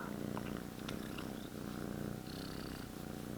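A domestic cat purrs close to the microphone in a steady, continuous low rumble that fills the whole stretch, with no voices.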